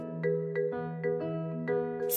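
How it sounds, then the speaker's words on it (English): A doorbell chimes in a repeating ding-dong pattern, several tones stepping down and up, fairly close and clear with no talking. "Someone is ringing the doorbell."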